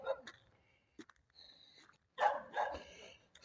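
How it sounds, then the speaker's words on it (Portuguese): Dogs on a mountain giving a few scattered barks and yips, mid-distance, mixed with a man's speech and some handling noise. "Os cachorros latem pra caramba"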